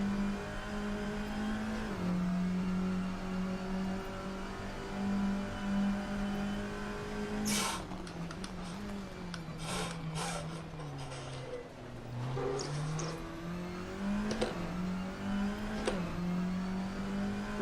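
A race car's engine in the Assetto Corsa racing sim, holding a steady droning tone that dips and climbs as the revs change, with short clicks and bumps of gear shifts, close and continuous with no talk.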